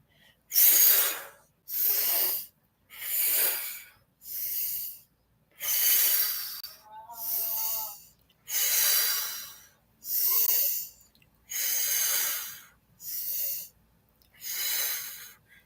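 Slow, deep breaths taken during a back-tapping exercise, about eleven long airy breaths in and out with brief pauses between, close and clear, with a faint wheezy rasp on a few of them and no talking.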